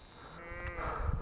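Sheep grazing on a high mountain pasture, with a single faint bleat or call rising partway through amid soft outdoor noise and light rustling.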